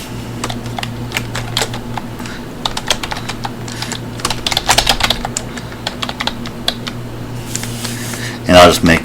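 Rapid clicking keystrokes on a computer keyboard, close and steady in irregular bursts, with a low background hum and a louder clatter near the end.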